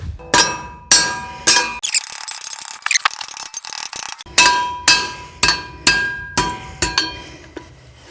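Long nails are hammered into wooden horse stall beams in a barn, with sharp metallic blows in repeated bursts, a short pause partway through and then a steady run of strikes, loud and close with no talk.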